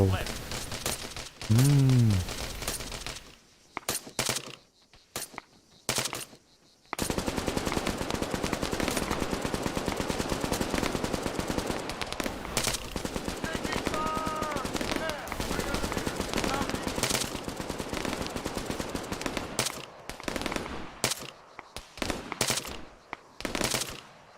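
Machine guns fire in the military shooter video game Arma 3. Long, loud, rattling bursts run almost continuously, broken by short silent gaps, with distant shots and a brief voice early on.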